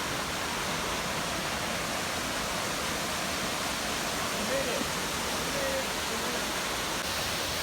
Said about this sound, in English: Alright guys, so this is waterfall number 1.